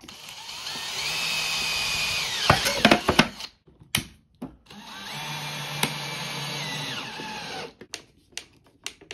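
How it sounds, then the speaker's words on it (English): An angle grinder cuts through a plexiglass sheet in two sustained high-pitched whining passes, each a few seconds long, broken by short clattering bumps and a quiet gap in between, with no talking. "So I've cut this plexiglass that I had, just cut it with the grinder."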